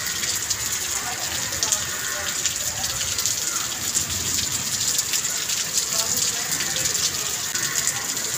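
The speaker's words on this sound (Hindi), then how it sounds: "तेज होने लगी बारिश।" Heavy rain pours down steadily, a dense hiss of water with splashing from nearby surfaces throughout.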